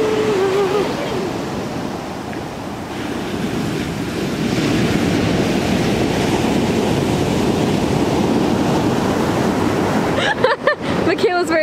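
Ocean waves wash onto a beach on a cloudy day in a steady broadband roar, mixed with wind buffeting the microphone and a brief rustle near the end.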